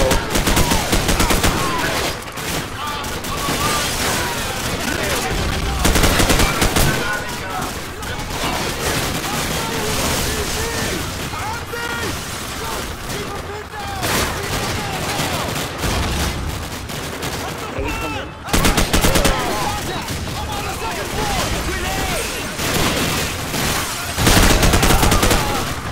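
Gunfire in the video game Call of Duty 4: Modern Warfare, with loud bursts and rapid volleys going on throughout, broken by brief lulls, while someone talks over the shooting.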